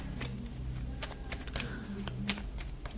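Tarot cards slide and flick off a deck in a quick run of soft, crisp snaps, faint and close, with no voice over them.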